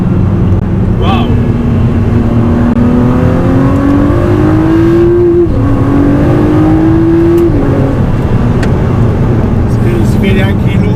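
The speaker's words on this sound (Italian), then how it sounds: "Adesso siamo in seconda marcia, provo ad aprire gas." A Ford GT accelerates hard in second gear, its engine note climbing steadily in pitch with a loud, close roar, a brief shift-like dip midway, under cabin noise and talk.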